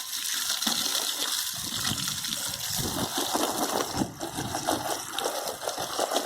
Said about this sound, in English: I'll put more water in this one.